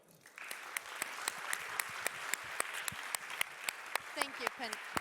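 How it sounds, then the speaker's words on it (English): Conference audience applauding a panel taking the stage, a room full of steady clapping with sharp individual claps standing out and a brief voice near the end. "let's give them an applause"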